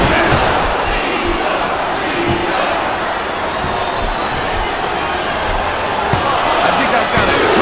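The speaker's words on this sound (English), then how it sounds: "I love hearing the crowd come alive" A wrestling arena crowd in the WWE Smackdown vs RAW 2007 video game roars continuously during a women's ironman match, loud and dense, with commentary voices underneath.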